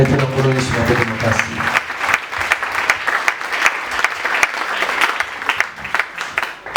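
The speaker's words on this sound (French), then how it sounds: "Acclamez pour le Seigneur." A church congregation claps for the Lord in dense, sustained applause, with a preacher's voice speaking at the start.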